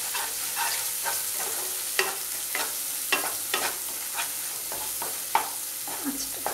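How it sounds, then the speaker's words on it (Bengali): Turmeric and chili powder frying in a pan for matar paneer: a constant crackling sizzle with a quick series of spatula scrapes and taps as the spices are stirred, close-up and without speech. "একটু নেড়ে দিলাম।"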